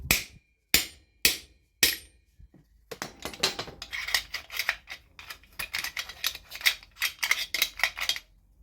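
Someone taps with a metal tool on the flywheel side of a Chinese chainsaw. A few sharp, separate knocks come first, then a quicker, irregular run of close metallic taps.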